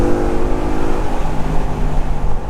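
A 2018 Ford Mustang 5.0 V8 Shadow Edition roars close and loud as its engine revs on a downshift, a sustained deep burble rising and settling without any voice.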